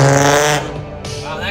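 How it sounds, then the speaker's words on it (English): A loud car roars past on a Los Angeles street, its harsh engine note sweeping and fading over about a second, with a voice talking over it. "Wow, that car sounds like shit."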